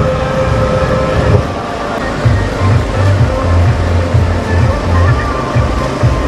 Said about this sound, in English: swimming as fast as they can.